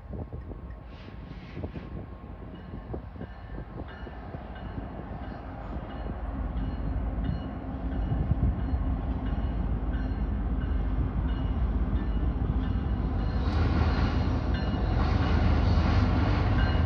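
A CPKC freight train runs along the River Subdivision between Hastings and Winona, a steady loud rumble with wheel clatter building over the whole span and no voices.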